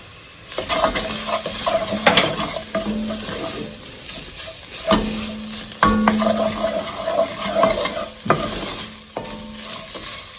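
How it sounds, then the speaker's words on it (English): Vegetables coated with tomato paste and crushed garlic, stirred in a pan: a continuous moderate sizzle with repeated scraping and knocking strokes of a spoon against the pan, close up, with no talking. "we're going to get all these vegetables coated with that tomato paste"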